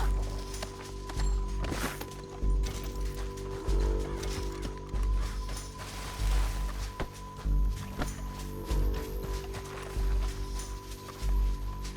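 Horse hooves pound in a steady galloping rhythm during a Red Dead Redemption 2 chase, close and continuous for the whole stretch, mixed with other game sounds.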